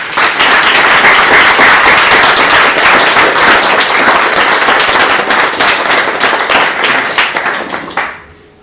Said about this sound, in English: Big round of applause for all three of our speakers.